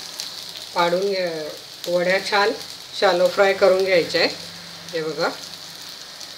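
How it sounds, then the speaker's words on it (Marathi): Green moong dal vadis shallow frying in a pan over a medium flame give a steady, close sizzle that runs beneath a woman's speech throughout. "मध्यम गॅसवर पाडून वड्या छान शॅलो फ्राय करून घ्यायच्या आहे"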